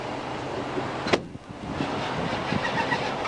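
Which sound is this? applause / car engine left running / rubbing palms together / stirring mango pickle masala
car engine left running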